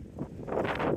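Gusty wind buffets the microphone in a broad, rushing wash of noise that swells louder over about a second.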